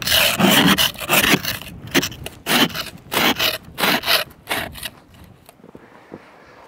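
Serrated edge of a JOYTUTUS 47-inch ice scraper rasping across ice, a series of loud, close scraping strokes in uneven rhythm that thin out and stop near the end.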